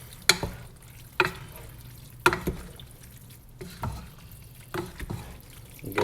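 A spoon stirs orecchiette pasta with rapini and sausage in a pan, with a few distinct scraping strokes about a second apart over a soft, steady sizzle, close and moderately loud.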